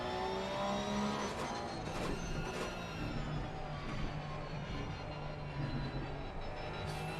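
Porsche GT3 Cup race car engine in a GT3 racing video game at the Hungaroring, a steady droning engine note with shifting harmonics, held at a constant loud level throughout with no talk.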